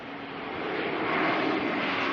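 A jet airliner at Auckland Airport roars past, its broad engine rush swelling steadily louder and holding near its peak, with no talking over it.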